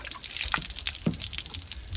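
Water runs and splashes while a filter screen is rinsed out, with irregular trickles and drips close by over a steady wash of flow.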